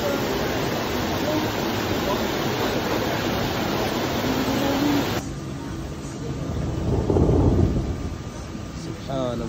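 Rain and hail fall at a riverside resort restaurant in Peja, Kosovo, a dense steady roar of broadband noise that shifts and softens midway, with a swell of heavier downpour near the end.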